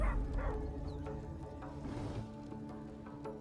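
Spectral hounds in the fantasy role-playing game Baldur's Gate 3 bark and yelp in short repeated bursts over layered combat effects and a low musical bed.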